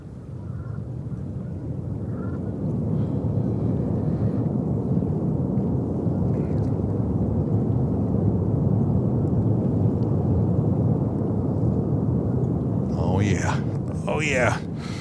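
An Airbus A340-600 in a new livery, arriving from Frankfurt, rumbles in on approach to JFK with a steady, broad roar lasting throughout, while people talk over it.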